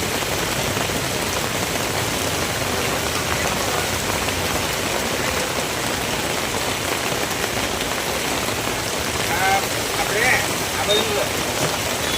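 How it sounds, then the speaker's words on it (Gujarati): Heavy rain pours over Vadodara city, a dense, steady hiss of drops drumming on surfaces that continues without a break. "છેલ્લા બે કલાકથી વડોદરા શહેરમાં તોફાની બેટિંગ કરી રહ્યા છે મેઘરાજા"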